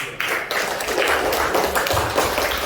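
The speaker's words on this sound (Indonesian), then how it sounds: "kasih tepuk tangan satu" A school class claps together once on cue, a brief burst of hand claps followed by scattered taps and thumps in a small classroom.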